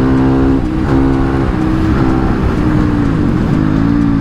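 Honda CRF450 supermoto motorcycle engine, loud and close, a steady single-cylinder drone with pitch rising and falling as the throttle is worked, no talk over it.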